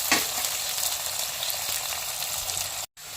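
Onion and garlic frying in a pan for a sardine fish curry, a steady close crackling sizzle with occasional stirring scrapes, cutting out briefly near the end.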